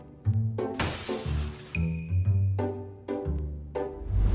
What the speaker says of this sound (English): security at a train station found a glass door was broken